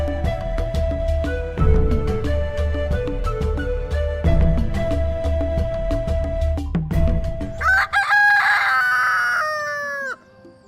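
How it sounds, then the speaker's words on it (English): A rooster crows near the end in an Amerindian village in Paruima, Guyana, a bright rising-and-falling call that stands out after a stretch of steady music. "The Crow and Rooster starts the day early"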